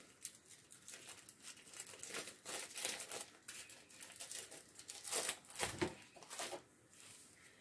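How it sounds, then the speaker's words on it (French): Paper is peeled and crinkled off goat cheese by hand, a series of soft, close crackles and rustling tears in irregular bursts, quiet overall with a short louder rip near the end. "on enlève bien le papier."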